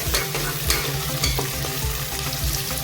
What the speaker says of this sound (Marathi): आता कांदा घालूया इथे गॅसची फ्लेम मोठी केले एक मिनटं कांदा परतवून घेते